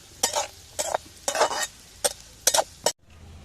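Ginger being stir-fried in a pan for pickle, with about six distinct scraping stirs of a spatula against the pan, sizzling between strokes, close up and without speech.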